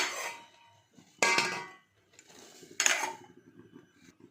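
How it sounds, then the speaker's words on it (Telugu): A metal lid is set onto a pot of boiling rice in a home kitchen, making two sharp clanking knocks about a second and a half apart, with a faint bubbling simmer between them. "బియ్యం వేసాను కదా, ఉడుకుతూ ఉంది. మూత పెట్టేస్తాను."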